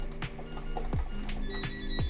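Electronic keypad beeps from a hotel room safe at the Sunscape Coco resort in Punta Cana, sounding as a short series of bright, evenly spaced error tones close to the microphone.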